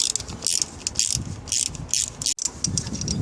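Ratchet fitted with a 10mm socket loosening a bolt on the EGR valve area of a 2.0 TDI Audi A6 (C6), a close series of rhythmic clicking strokes repeating about every half second, without talk.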